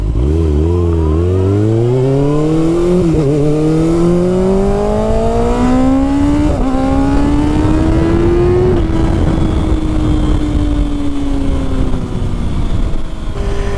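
A 2024 Kawasaki ZX6R engine revs hard on throttle, loud and close, with the pitch climbing steadily through gear changes before easing off into a steady high drone.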